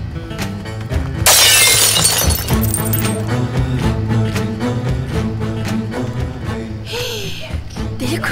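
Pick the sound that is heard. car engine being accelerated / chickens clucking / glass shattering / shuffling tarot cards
glass shattering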